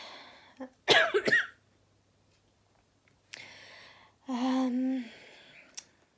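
A harsh burst of coughing near the start, then later a short cough and a brief voiced throat sound, separated by quiet.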